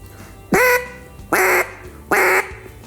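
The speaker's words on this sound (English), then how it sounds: "this is what it would sound like if you're blocking the call" Three loud, nasal quacks blown on a duck call with the lip blocking the airway, evenly spaced and close, each one a harsh, buzzy blast.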